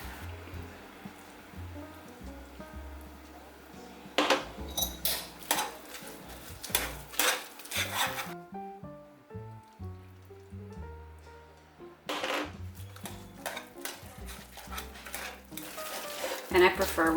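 A whisk clatters against a pot while mashing potatoes with cream and butter, giving bursts of quick metallic scraping and tapping that stop for a few seconds and then resume. The sound is fairly close and faint.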